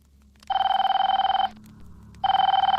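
A telephone rings in two loud, close bursts, each a rapid trilling bell lasting about a second, separated by a short pause, with no talking.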